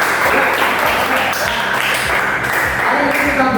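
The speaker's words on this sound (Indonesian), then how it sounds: "Tepuk tangan dulu untuk kita semua." Students in a classroom lesson clap together on a teacher's cue, giving a dense burst of clapping with tonal voices or music mixed in underneath.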